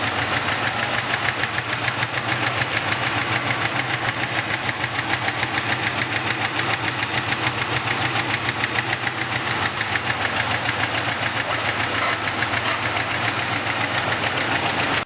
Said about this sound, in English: it's probably just a lifter tick because it got ran low on oil